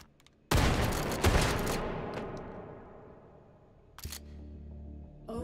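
Shotgun blasts at boxes in the VR game Hot Dogs, Horseshoes & Hand Grenades, with two close booming shots and a long decaying echo, then a sharper crack followed by clatter near the end.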